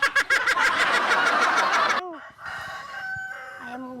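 A rooster cackles in rapid, rhythmic bursts, then lets out a wavering crow with a few shorter calls, close by and fairly loud.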